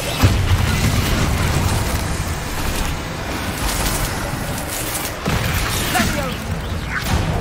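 Bombarda spell blasts in Hogwarts Legacy, a continuous loud barrage of booming, crackling explosions that swell and break repeatedly among other spell effects, close and dense throughout.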